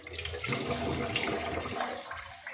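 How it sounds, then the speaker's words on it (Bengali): Steady tap water runs into a kitchen sink while hands are washed, a continuous close splashing rush with no talk over it. "এখন আবার এখানে দেখি হাতটা একটু ধুয়ে নিই।"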